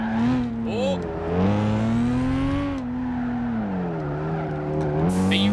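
Race car in Gran Turismo 5 cornering hard with a sustained engine whine rising and falling and tire squeal through the turn, loud and close, with someone talking over it.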